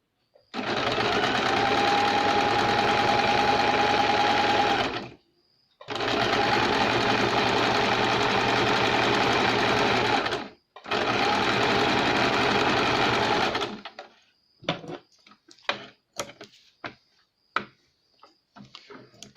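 A sewing machine stitches the main fabric of a baby cap from the wrong side in three long, loud, even runs of rapid whirring, separated by short pauses, then a few scattered clicks and ticks.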